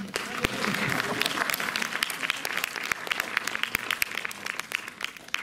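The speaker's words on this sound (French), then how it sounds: "vous pouvez peut-être vous applaudir aussi" Cinema audience at a film screening and director meeting applauding steadily, a dense wash of clapping with a few sharper close claps standing out, sustained throughout at moderate loudness.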